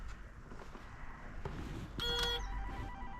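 A flat's door intercom panel buzzes with an electronic ringing tone during a Tesco food delivery. A short burst of beeps rises over street background noise after a few faint clicks.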